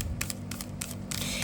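A deck of tarot cards is shuffled in a few quick, crisp riffling bursts, close and fairly soft, with no talk.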